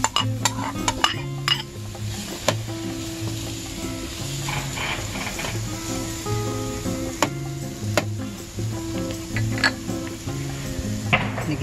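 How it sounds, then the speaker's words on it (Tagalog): Onions cook without oil in a Saladmaster pan, a soft sizzle running under repeated scraping and clinking of a utensil stirring against the pan, with no talk. "ngayon, ilalagay ko ang onions. Walang oil."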